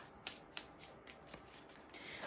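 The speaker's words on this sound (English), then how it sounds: "These cards are very easy to shuffle." Tarot cards being shuffled by hand, a few soft riffling flicks and snaps in quick succession, close and quiet in a still room.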